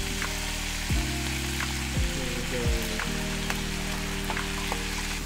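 Sweet and sour pork with onions and pineapple sizzling and frying steadily in a hot pan, with a few louder stir-and-toss bursts against a continuous crackle.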